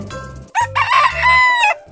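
A rooster lets out one loud, close crow, a rising then long held cock-a-doodle-doo lasting over a second, with a soft cluck just before it.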